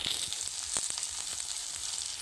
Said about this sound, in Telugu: ఇవి బాగా ఫ్రై అవుతున్నాయి కాబట్టి